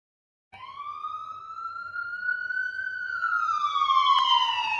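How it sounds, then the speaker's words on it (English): A single emergency siren wails, starting suddenly, then slowly rising and falling in pitch while it grows gradually louder, steady and clear with no one talking over it. "The fucking sirens to top it off."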